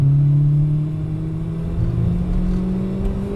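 A loud 1998 Peugeot 106 Rallye S2 engine drones steadily, its pitch climbing gradually as it revs up to 7,000 rpm.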